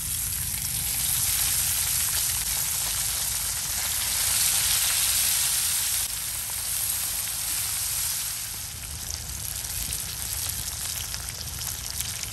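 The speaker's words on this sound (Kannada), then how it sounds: "ಮಿಕ್ಕಿದ ಮೀನಿನೂ ಕೂಡ ಫ್ರೈ ಆಗ್ತಾ ಉಂಟು, ಫ್ರೈ ಮಾಡಲಿಕ್ಕೆ ಇಟ್ಟಿದ್ದೀನಿ" Tongue fish frying on a hot tawa: a steady, loud, close hiss of oil, constant sizzling and crackling that swells slightly midway and never stops.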